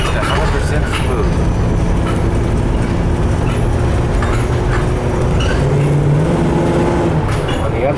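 A utility work van with a cutaway chassis drives along, its engine droning loudly from inside the cab and shifting up and then down, with road rumble beneath and someone speaking over it.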